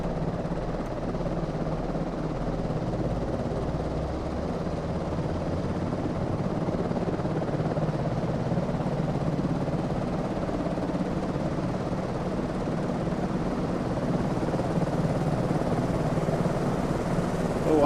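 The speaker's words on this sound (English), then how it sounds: "I hear helicopters, but I don't hear my own aircraft." Helicopters in Microsoft Flight Simulator 2024 over Victoria's Great Ocean Road give a steady, unbroken rotor and engine drone throughout, fairly loud and constant.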